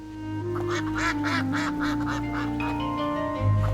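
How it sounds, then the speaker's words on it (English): Ducks working the Balinese rice terraces quack in a rapid run of short, nasal calls, fairly close and clear, over a steady tonal background hum. "In Subak, even the animals join the teamwork. The ducks help the rice grow."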